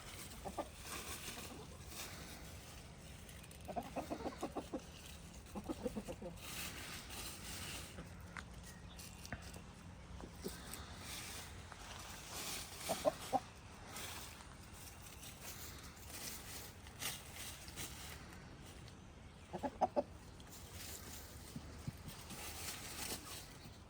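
Chickens cluck softly outdoors in scattered bursts, fairly faint against a steady background hiss.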